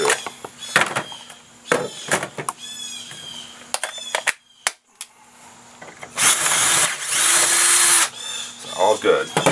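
Cordless drill with a 17/64 bit boring a hole while making a trip wire alarm, heard in several short whirring bursts that end in a longer, louder run, with knocks and handling noises between them.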